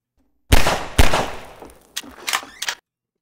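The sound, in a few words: gunshot in Half-Life 2 Ravenholm, from a video game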